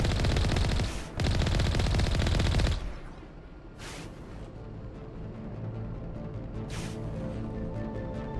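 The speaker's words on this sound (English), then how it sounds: "There's more gunfire, but I don't see the source." Sustained automatic gunfire in the sci-fi video game Mass Effect, loud bursts for several seconds, then a quieter stretch with distant isolated shots and echoing rattles.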